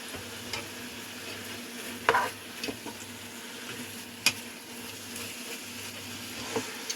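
Hot pot vegetables and baby corn stirred into a frying beef and vegetable soup base give a quiet continuous sizzle, marked by a few sharp clinks and scrapes of stirring, close by with no voices.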